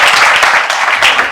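Loud, close audience applause in a brief, dense burst of many hands clapping together with no voices over it.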